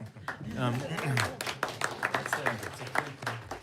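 Audience applause for a Michelin-starred San Antonio chef at a legislative hearing, scattered hand claps building from speech into a brief round of clapping in a room.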